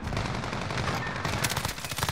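Rapid gunfire in an online shooter video game, with bursts of overlapping shots and a quick run of sharp cracks near the end over a busy background.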